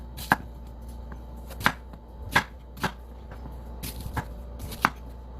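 An onion being chopped on a board for Korean soft tofu stew: about seven crisp knife chops at uneven intervals, close and clear over quiet background, no talking.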